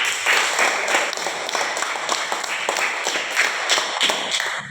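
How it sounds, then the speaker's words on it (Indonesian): A classroom of elementary school pupils gives a round of steady clapping applause, many hands beating densely and fairly close, continuing throughout with no talk over it. "Sekali lagi tepuk tangan."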